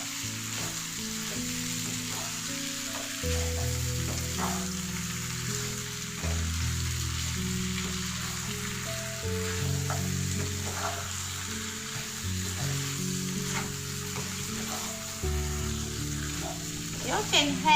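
Butter sizzles and fries in a hot pan while making spicy pepper chicken, a steady crackling hiss with occasional stirring scrapes, close and continuous throughout, with a voice talking over it at times.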